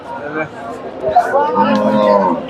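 A dairy cow at a cattle market in Bogura lets out a long, low moo nearby, with faint crowd chatter in the background.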